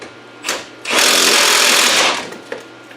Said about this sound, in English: Let's tighten them up. I do have a torque stick on here, so it is set to a certain torque.